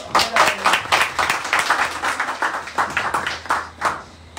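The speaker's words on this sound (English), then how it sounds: "Give the club a round of applause." An audience at a Rotary Club investiture ceremony in Portsmouth, Dominica, claps loudly and close by, the strong hand claps coming in a fairly regular rhythm throughout.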